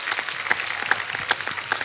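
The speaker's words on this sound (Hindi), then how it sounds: "एक बार जोरदार तालियां हो जाए शत्रु सर के लिए" Studio audience applause for the host on a comedy talk show, a short burst of dense clapping at moderate volume with sharp accents rising through the crowd.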